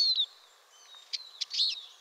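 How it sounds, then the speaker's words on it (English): A finch gives thin, high flight calls, a few short separate notes over about two seconds, fairly faint against a quiet background. "apart from making your flight call, as you're hearing now"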